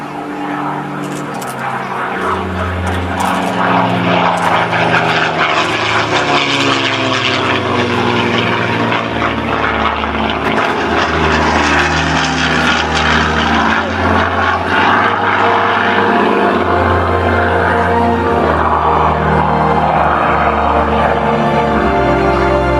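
A Mark 9 Spitfire fighter's piston engine and propeller roar loud and steady at an air display, holding a sustained throbbing drone from start to finish with a rising and falling pitch as it passes, and no talk.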